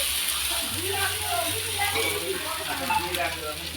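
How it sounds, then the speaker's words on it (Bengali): Chicken fries with spices in a pan, a steady sizzle with occasional stirring clicks close by, while a voice talks over it. "এই যে চিকেনটা কষছি এখন"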